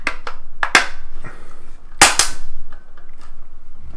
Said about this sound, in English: But you also heard some of the plastic breaking